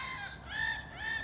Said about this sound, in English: Noisy gulls.